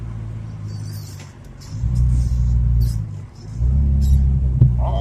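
Honda Civic hatchback with a B20B engine, revving from idle in steady mid-range pulls: the rumble rises twice, dips between, and then climbs again, up close with no talk.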